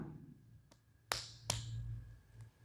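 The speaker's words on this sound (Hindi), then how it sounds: "ऐसे दाहिने हाथ के पुश्त से बाएं हाथ के पुश्त पे ताली बजाना है ऐसे" Two sharp, bright slaps from striking the back of the right hand against the back of the left, close and fairly quiet, with fainter taps before and after in a quiet room.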